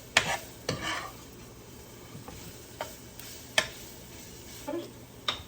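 Tofu crisping in a hot pan with ginger nearby, giving a soft, steady sizzle broken by a few sharp clicks and taps from stirring.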